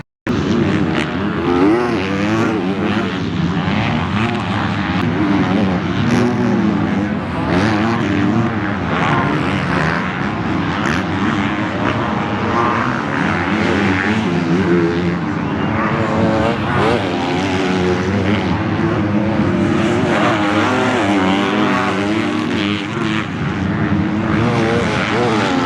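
Loud, continuous engine roar of motocross motorcycles lugging in low gear during a pro race, a dense, steady drone that stays strong throughout with slight swells as they pass.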